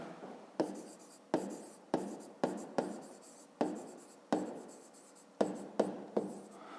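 Pen writing on paper while working a fifth-grade geometry problem about the perimeter of an isosceles triangle: a series of short scratchy strokes, about a dozen, each starting sharply and trailing off, close and clear, with no speech over them.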